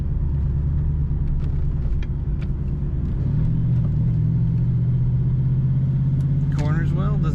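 A 1994 Ford Mustang GT convertible with the top up cruises steadily, its engine rumble and road noise continuous and close throughout, with a brief higher whine near the end.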